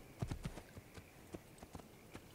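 Horse hooves clip-clopping in the video game Assassin's Creed II, a quick cluster of close hoofbeats followed by sparser, fainter steps.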